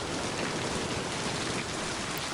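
Steady rain pours in the video game Mind: Path to Thalamus, a dense, even hiss of falling water filling the whole stretch without pauses, close and continuous, with no other sounds standing out.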